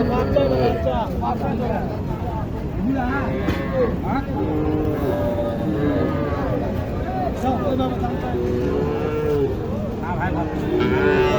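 Sahiwal cattle moo repeatedly at a busy cattle market in Naogaon, their calls loud and close over a steady crowd babble, with people talking nearby throughout.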